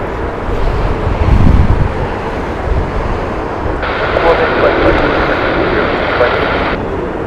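Jet aircraft at Heathrow Airport, a broad continuous engine roar with wind buffeting the microphone, a steady loud wash that brightens and hisses in the second half, with voices talking over it.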